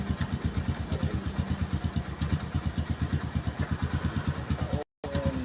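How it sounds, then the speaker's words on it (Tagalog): A motorcycle with a loud exhaust idles nearby, its engine thumping in a fast, even pulse. The sound cuts out for a moment and then returns. "maurago ng tambutso mo ha"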